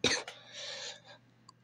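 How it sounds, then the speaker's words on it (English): One short, sharp cough from a close voice, followed by a brief breathy exhale in quiet surroundings. "Please don't mind if I do cough."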